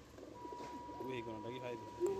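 Pigeons bought cheaply at 100 taka each coo in low, rolling phrases, with a few brighter calls on top and a faint steady hum in the background.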